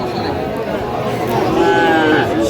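Cattle, including young bulls, low and moo at a livestock market in Feni, with a drawn-out call rising over a busy backdrop of crowd chatter and voices.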